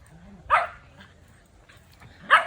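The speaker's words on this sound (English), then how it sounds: "right now she's just playing tug with Bruno, but it's in a fun way." Two dogs playing tug, with short barks and yips bursting out at intervals amid quiet rustling.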